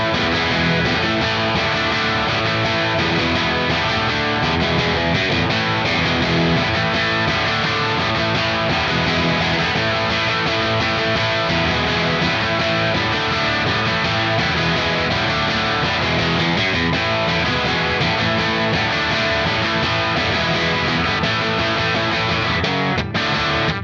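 Electric guitar with P90 pickups played through a Marshall 1959BJA Billie Joe Armstrong amp, a loud, steady stream of driven chords sustained throughout with no speech.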